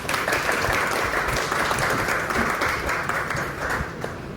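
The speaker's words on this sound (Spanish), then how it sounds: "Recibimosla con un cálido aplauso" Loud, sustained audience applause at a cultural diplomacy event, many hands clapping in a dense continuous roar that tapers slightly toward the end.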